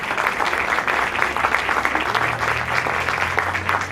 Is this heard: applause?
yes